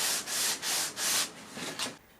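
Hand sanding a rosewood guitar top for a set-neck Telecaster, with four even rhythmic strokes of abrasive rasping on wood, close and clear, then two shorter strokes before stopping.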